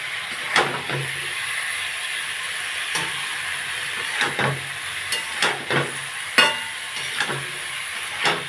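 Ash gourd (chal kumro) being fried with spices in a pan, a continuous hissing sizzle with scattered sharp clinks and scrapes from stirring, no voices.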